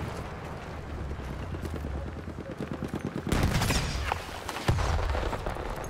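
Rapid automatic gunfire rattles in Battlefield 1 beta combat, a steady stream of shots giving way to louder, heavier bursts and a blast-like boom near the end.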